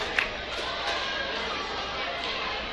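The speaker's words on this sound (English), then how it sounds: "And that made free throw cheer" Cheerleaders cheering after a made free throw at a basketball game, a steady gym crowd roar with chatter and faint shouts, continuous and moderately loud throughout.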